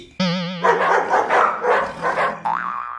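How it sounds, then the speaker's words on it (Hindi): Dogs fighting at night in a cartoon comic scene, sharp yelping barks and snarls in a loud close burst alongside a springy boing effect, with no talk. "अब कुत्ते लड़ रहे हैं।"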